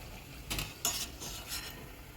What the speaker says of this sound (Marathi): मस्त अशी खरपूस भाजून घ्यायची घरी दोन्ही बाजूला छान अशी भाजायची